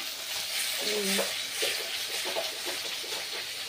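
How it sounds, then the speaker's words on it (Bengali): Chicken and Maggi noodles frying in a pan give a continuous close sizzle with scraping stirs, while a voice briefly talks over it. "এটা চিকেন দিয়ে একটু ভাজা ভাজা করছি"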